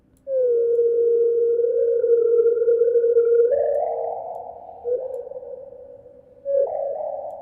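Synthesized tone with soft-clipping distortion, a sustained buzzy electronic note that shifts pitch in steps, loud and alone with slight swells and no voice.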